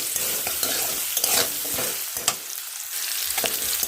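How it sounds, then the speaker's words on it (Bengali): Potatoes are stirred continuously while frying on a low flame, a soft steady sizzle broken by frequent scraping and knocking of a spatula against the pan, with a brief quieter gap midway. "আলুটা আমি অবিরত নাড়তে থাকবো যাতে পুড়ে না যায় তলা থেকে।"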